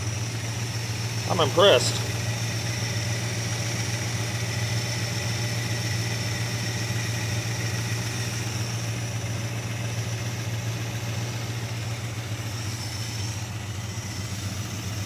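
A 1969 Dodge Dart GT V8 with an old Holley carburetor, revived after about twelve years sitting, idles running rich with a steady low rumble close by, while a person briefly speaks over it.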